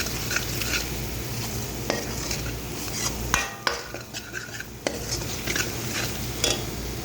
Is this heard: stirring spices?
yes